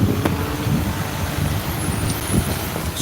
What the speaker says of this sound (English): This trash truck is loud.